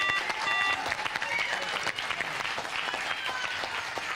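A crowd at a high school quiz competition breaks into loud, sustained applause with scattered cheers and whoops, dense clapping throughout.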